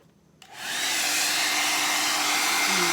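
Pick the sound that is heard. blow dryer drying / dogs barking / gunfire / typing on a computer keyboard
blow dryer drying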